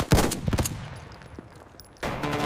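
An M240 machine gun fires in a staged battle scene of modern US Marines against 1945 Imperial Japanese troops on Iwo Jima, heard as a quick loud cluster of sharp bursts that trails into a lingering wash before another blast.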